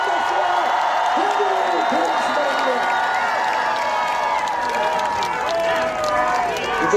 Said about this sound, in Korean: 이재명 대통령 후보의 연설 있겠습니다. 뜨거운 박수와